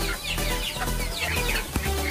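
Ayam ketawa chickens clucking close by while being fed moistened bread, a dense run of short overlapping clucks and chatter.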